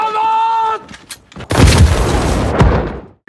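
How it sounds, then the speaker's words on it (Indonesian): A sharp, loud blast erupts after a brief tone, followed by a rumbling roar and a second thud before it cuts off. "mendengar ledakan itu dari dalam kereta pun seketika panik"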